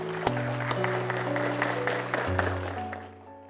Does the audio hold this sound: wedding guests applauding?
yes